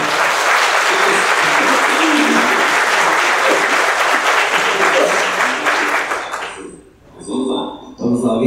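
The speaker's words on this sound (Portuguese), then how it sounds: "Então é legal o pessoal bater a mão." A lecture audience at a tourism forum applauds loudly and continuously for several seconds before the clapping fades out abruptly, leaving brief faint sounds and a little talk.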